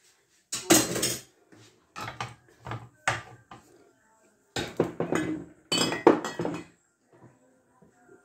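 A spoon clinks and scrapes against a bowl while a homemade hair mask for curly, dry hair is mixed, in several bursts of sharp close-up knocks and rattles separated by short pauses.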